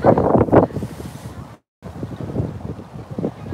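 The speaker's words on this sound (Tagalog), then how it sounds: "Yan mahangin." Gusty wind buffets the microphone in heavy, rumbling blasts, with a brief drop-out midway and a sense of open seaside air.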